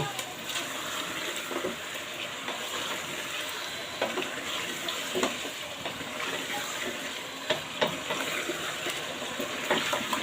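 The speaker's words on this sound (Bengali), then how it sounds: "এগুলি আমি খুব সুন্দর করে ভালো করে কষায় নেব" Chili powder and spices frying for chicken curry, a steady hiss and sizzle in the pan with occasional clinks and scrapes of stirring.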